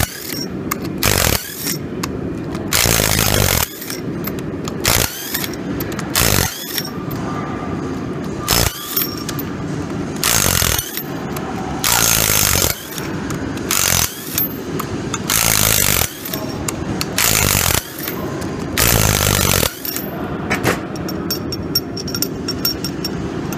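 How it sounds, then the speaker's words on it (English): Power tool loosening bolts on a car rear differential, repeated loud bursts of whirring impact-wrench rattle lasting about a second each, separated by short pauses, heard close and alone. "We're going to loosen up all these bolts."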